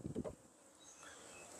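Honey bees from a newly installed package buzz steadily inside a hive, a faint, continuous hum that holds throughout.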